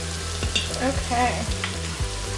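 Dried oregano and coriander sizzle in hot oil inside an Instant Pot while a spoon stirs them, giving a steady close fry with several sharp scraping strokes against the inner pot.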